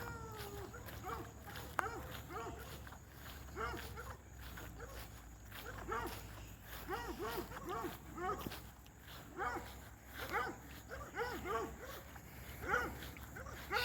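Hound dogs bark and bay in repeated bursts as they run along a fence, with yelping calls rising and falling at a moderate distance.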